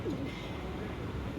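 An Andhra pigeon with a closed tail gives a short, low coo while held in the hand, close and continuous against a steady murmur of background noise.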